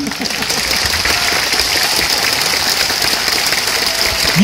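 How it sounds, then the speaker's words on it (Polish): Stormy, continuous applause from an audience at a jubilee celebration for Ryszard Szmit in Olsztyn, a thick, even roar of clapping filling the whole stretch. "Następują burzliwe oklaski."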